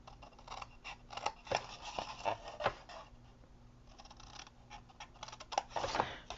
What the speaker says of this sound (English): You're going to cut up to that very first score line and just keep going down the way.